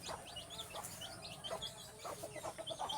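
Domestic hens with their chicks cluck softly at a farm, with short, scattered calls and chirps rising over a quiet background.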